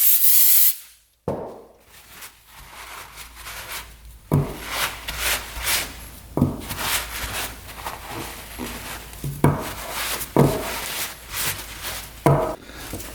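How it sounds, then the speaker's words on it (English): Brake cleaner sprayed from an aerosol can onto a dirty part of a scrapyard 2-stroke dirt bike, in several short hissing bursts with rubbing and handling noises between them, close by. "All right, little brake cleaner."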